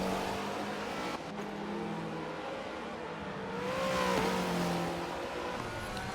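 A loose drift car in a racing video game at Silverstone, its engine humming and revving steadily at moderate volume, rising in pitch toward the end, with no talk over it.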